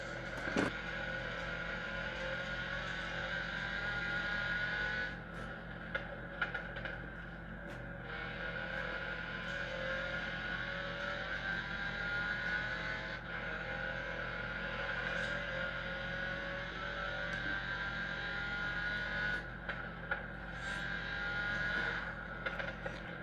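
Car engine in the Forza racing game played with a steering wheel set, a steady droning hum with shifting whine that runs throughout, loud and continuous without talk.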